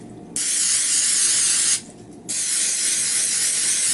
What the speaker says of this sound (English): I probably use way more cooking spray than I need